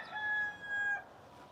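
A rooster in a farm coop gives a short, thin crow, fairly faint and partly distant, over quiet background noise.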